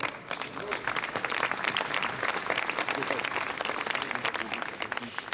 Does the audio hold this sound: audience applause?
yes